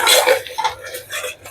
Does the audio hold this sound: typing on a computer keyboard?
no